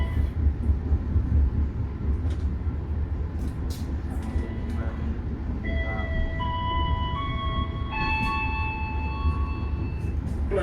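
The Argo Bromo Anggrek executive train in Indonesia running on rails as it nears Surabaya Pasar Turi: a steady low rumble heard from inside the carriage, with faint clicks and a sustained tonal whine entering partway through.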